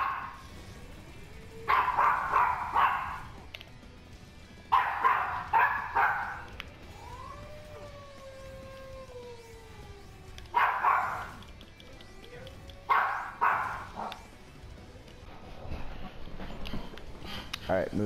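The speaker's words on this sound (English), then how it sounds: "Sorry about my dog in the background." A dog barks in the background in repeated short clusters of sharp yips, separated by quieter pauses with faint whining tones, fairly close and loud, with no speech heard.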